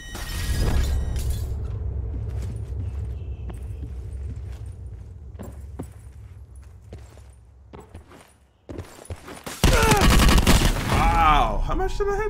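Gunfire from the PC game Battlefield V, a dense burst of shots early on followed by scattered single reports and a loud chaotic stretch near the end, heard in the mix with in-game ambience and voices.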